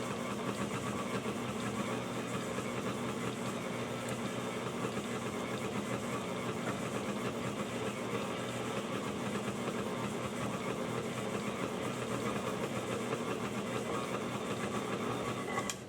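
A stand mixer runs steadily, cutting butter into a dry dough mixture for cinnamon rolls, a constant whirring motor drone with an even mechanical texture, unbroken and moderately quiet throughout.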